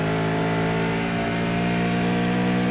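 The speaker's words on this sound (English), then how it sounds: "Getting around slower car, Jason Black." Race car engine howling steadily at high revs as it circuits the track in a Race of Champions event, loud and continuous with a sustained tone and no voices.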